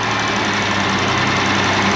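A 1974 Daimler Sovereign Series 2 engine held at raised revs, with the cooling fan running; a loud, steady, even drone with no voices over it.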